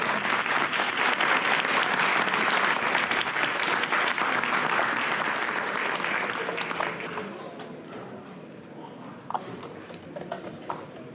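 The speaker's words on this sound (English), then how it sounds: "let's give a big round of applause" At a Lane Tech boys basketball banquet, a crowd claps loudly and steadily for several seconds, then the applause thins out into scattered individual claps and soft room noise.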